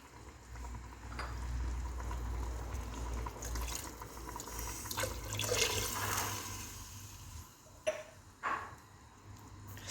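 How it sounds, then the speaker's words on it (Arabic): Tap water runs steadily while fresh herbs are washed in a Moroccan kitchen during trid preparation. It is a continuous hiss of moderate loudness with a few brief splashes near the end and no talk. "غسلت شويه ديال الربيع وربطته"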